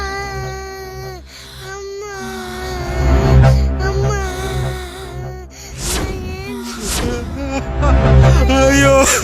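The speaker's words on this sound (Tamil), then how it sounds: "என்ன குழந்தை அழுற சத்தம் கேக்குது?" A baby cries loudly in a Tamil television drama, with repeated strained wails broken by gasping breaths, close and insistent throughout.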